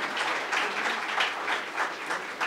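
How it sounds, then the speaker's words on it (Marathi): Sustained audience applause fills a hall at a Marathi book launch as a young kirtan performer is called to the stage; a dense, steady wash of many hands clapping, swelling slightly in waves, with no talk over it. "ईशासाठी जोरात टाळ्यांचा कडकडाट करूयात"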